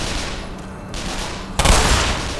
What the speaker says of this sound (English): Let's get some free shots in.